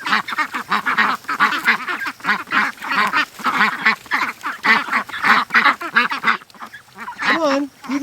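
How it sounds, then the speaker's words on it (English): Pet ducks raised for charity quack continuously up close, a dense rhythmic chorus of loud repeated quacks with no clear pauses. "Hello, little ducks."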